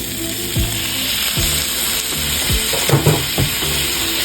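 Chopped tomato goes into a pot of homemade chili, a loud close sizzle and frying hiss with a few stirring knocks and scrapes of a utensil against the pot.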